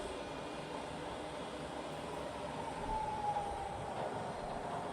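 A Bridgeport milling machine with a 42-inch table runs in reverse at moderate speed, giving a steady, quiet mechanical hum with a faint tonal whine drifting through its middle, continuous with no talk.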